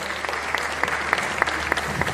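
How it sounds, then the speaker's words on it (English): An audience at a panel discussion on the Lagos State blue economy applauds the moderator and panelists: a steady round of clapping with sharper individual claps recurring at a regular beat throughout. "we give the moderator and the team of panelists a round of applause"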